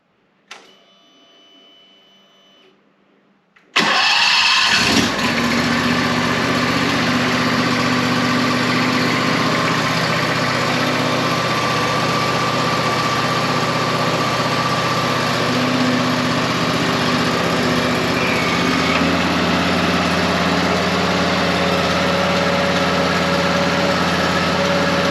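A Wright Stander mower with a Vanguard engine starts up after a few quiet seconds and then idles loud and steady at close range, a continuous low rumble holding for the remaining twenty seconds.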